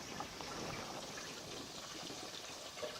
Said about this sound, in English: I'm going to go ahead and I'm going to drain the pasta, but I'm not going to rinse the pasta.